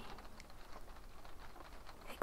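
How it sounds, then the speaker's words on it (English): Soft, steady patter of rain runs as a faint, continuous hiss with scattered light drips, heard alone without any talking. "Yes, it is a rainy day indeed."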